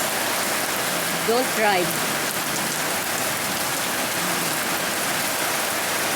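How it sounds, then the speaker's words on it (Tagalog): Steady rain falls in a dense, even hiss throughout, and a voice speaks briefly near the start. "Always rain most of the time, evening and afternoon."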